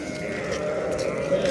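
Rams bleating at a sheep market near Bishkek, a wavering bleat rising over a busy outdoor background with people talking nearby.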